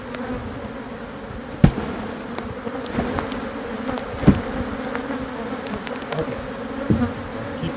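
A swarm of roughly 20,000 honey bees dumped out of a tree onto the ground makes a dense, steady buzzing hum, loud and close throughout, with a few sharp knocks and thumps rising above it.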